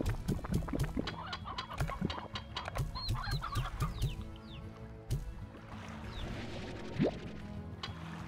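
Chickens in the video game Slime Rancher cluck in quick, soft, repeated bursts, faint and busy, mixed with light game effects and a few sharp clicks.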